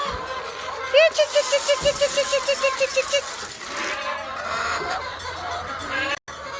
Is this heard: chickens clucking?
yes